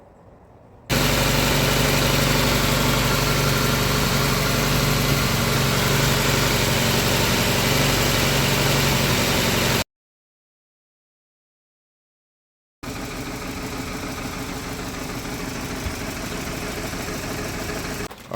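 Engine of a Nissan S13 with an oil leak running steadily at idle, a loud continuous hum that cuts out abruptly for a few seconds and then resumes.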